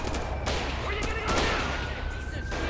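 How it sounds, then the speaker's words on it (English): Gunfire in GTA 5 during a police gang unit patrol, with several sharp shots popping over a steady mix of game noise and a siren-like tone, while a voice talks over the action. "My dude's still shooting."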